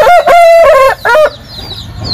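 Chickens at a poultry farm in Vung Tau crow and cluck loudly and close up, two strong bursts in quick succession followed by softer background clucking.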